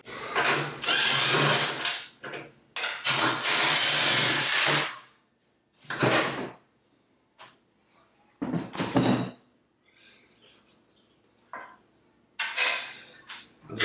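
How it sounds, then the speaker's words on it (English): Parts being removed from the side ejector of a John Deere 1025R compact tractor's 60D mid-mount mower: loud bursts of metallic rattling and tool clatter come in uneven clusters, separated by quiet pauses and a few lighter clanks. "I'm going to take this side ejector off completely"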